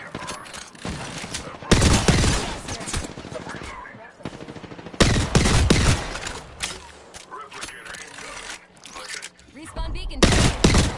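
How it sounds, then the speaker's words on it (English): Rapid automatic gunfire in a video game as a player shoots out enemy walls, loud bursts of machine-gun fire coming in several volleys with a player talking between and over them. "I'm shooting their walls out."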